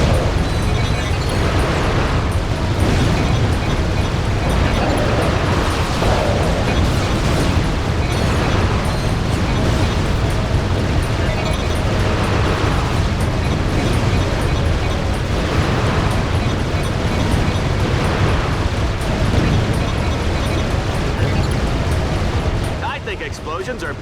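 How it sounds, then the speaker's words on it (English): Repeated explosions from the Ratchet: Deadlocked gladiator mode on Exterminator difficulty, a dense, loud, continuous wall of booms and bursts with game noise and some talk mixed in, fading near the end. "Explosions are pretty."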